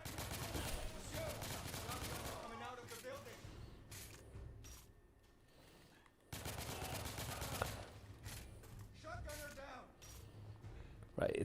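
Enemy shotgun fire in The Order: 1886, a third-person shooter, rings out as dense, repeated blasts amid busy combat noise, with a brief lull midway before heavy firing resumes.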